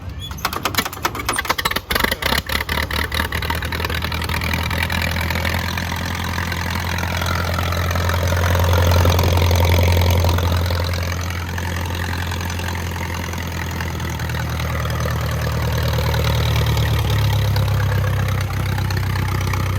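An old tractor engine idles steadily with a low, throbbing rumble, preceded by a brief burst of rapid clattering at the start.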